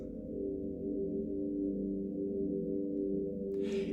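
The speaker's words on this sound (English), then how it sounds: "sustained vocal-like pads that sound like this" A steady, sustained vocal-like synth pad with a soft, voice-like drone holds evenly throughout, ending with a faint airy swell.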